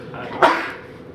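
A single sharp sneeze bursts out in a quiet planning board meeting room, one loud broadband blast about a third of the way in that fades quickly into low room noise.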